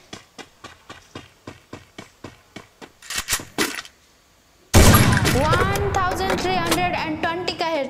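AWM sniper rifle shots from a mobile shooting game, playing out as a steady run of evenly spaced sharp reports that speeds into a quick burst, then one loud blast with a long ringing, echoing tail.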